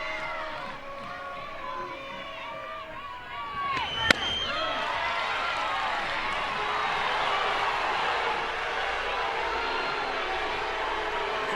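Softball crowd at an Oklahoma vs Oklahoma State college game reacting against an umpire's call, a sustained loud swell of voices and boos that rises after a sharp crack and holds steady to the end.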